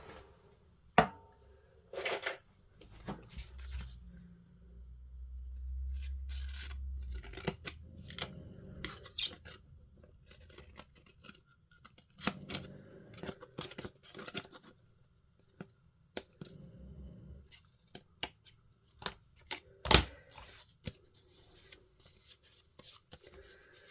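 Close, quiet snips of scissors cutting paper, irregular bursts of sharp clicks with rustling and handling noises in between.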